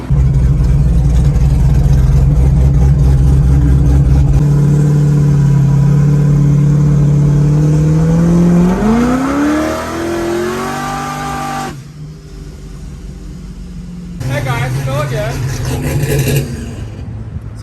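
Someone's C6 car idles with a deep rumble, then revs hard and accelerates, the engine note climbing through gears before cutting off abruptly, with a brief roaring burst afterward; loud and close, with some talk over it.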